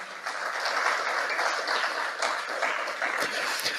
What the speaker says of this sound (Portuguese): aplauda ao Senhor de todo o seu coração